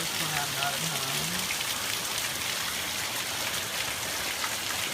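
Heavy soaking rain pours down steadily and loudly, a dense unbroken hiss of drops hitting surfaces close by, with a brief low hum early on.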